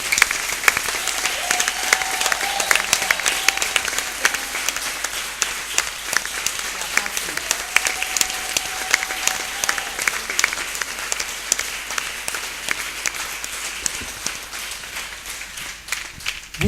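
A church congregation applauds during a Catholic ceremony in Benin, a loud, sustained clatter of many hands that runs unbroken for about seventeen seconds, with faint voices and a brief tonal sound mixed in.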